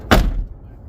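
A single solid thud as the door of an Acura Integra DA fitted with EK side skirts swings shut, loud and close, followed by a short quiet tail.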